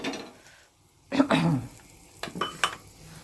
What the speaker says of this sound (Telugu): అలా వేసాను అనుకోండి తాలింపు